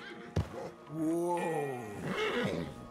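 A horse neighs in the Red Dead Redemption 2 video game: a sharp thump, then a clear, fairly close whinny that rises and falls in pitch, over quiet background.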